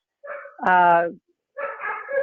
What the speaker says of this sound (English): I apologize if you can hear my dogs